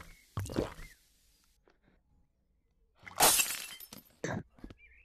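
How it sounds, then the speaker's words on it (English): Glass shatters twice in Rec Room VR, each a bright, crashing burst of breaking shards, the first short and the second louder and longer with tinkling debris, separated by near silence. "Breaking glass."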